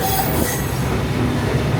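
The Walt Disney World Railroad train at Magic Kingdom rolls steadily along its track near Tomorrowland, a continuous loud rumble of wheels and carriages with faint squealing and rhythmic clatter.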